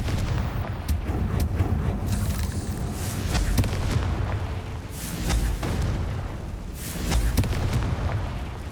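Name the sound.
Confringo explosive spell blast in the video game Hogwarts Legacy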